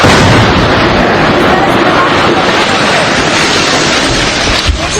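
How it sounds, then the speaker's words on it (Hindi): Dense, continuous roar of heavy blasts and rumbling, loud and sustained throughout with no clear gaps, like ongoing explosions or artillery. "तो देखिए धमाके की जो आवाज़ आ रही है वो आप सुन सकते हैं"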